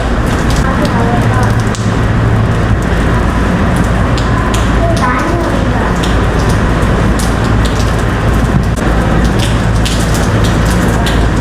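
Rain falls steadily in Saipan, a dense, loud, continuous patter and hiss close by, with a few faint voices in the background.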